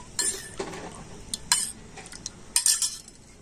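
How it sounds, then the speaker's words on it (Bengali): A spoon stirs vinegar and water together in a bowl, giving several light clinks and scrapes in irregular bursts, close and fairly quiet. "এবারে জল আর ভিনিগারটা ভালো করে মিশিয়ে নিচ্ছে"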